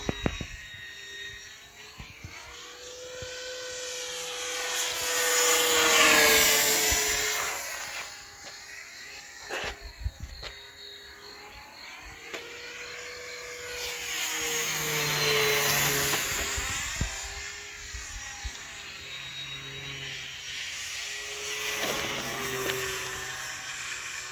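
A foam board Ki-61 RC warbird model makes a show pass, its electric motor whine rising and falling in Doppler sweeps as it flies by twice at moderate distance, with faint outdoor hiss between.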